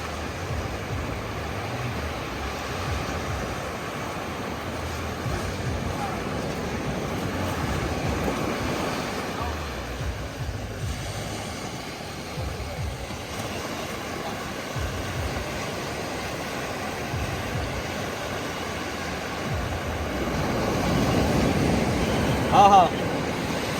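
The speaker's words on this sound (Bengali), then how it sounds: "এই এক একটা ঢেউ" Sea waves roll and break on a beach in a steady wash of surf, with wind buffeting the microphone and a surge toward the end, while a voice talks over it.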